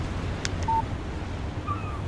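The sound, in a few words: phone text message notification in video game Alan Wake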